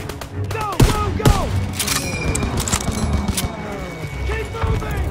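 Machine gun bursts and rifle shots crack through a World War II battle in Call of Duty WW2 near a barn, loud and close with sharp repeated reports, while soldiers shout over the fighting.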